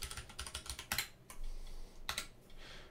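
Typing on a computer keyboard: quiet, close clicks in quick irregular bursts, with a few louder key strikes set apart by short pauses.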